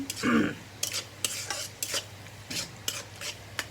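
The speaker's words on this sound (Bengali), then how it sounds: "এখন আমি যে মশলাটা কষাই নিব।" Ground spices stir-fry in a pan, heard as a close scraping stir with rhythmic spatula strokes and light clinks over a low sizzle.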